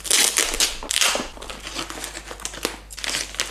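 A wrapped mystery parcel is cut open with scissors, giving close, loud bursts of crinkling and crushing packaging with snips and rustles in an irregular rhythm, with no speech.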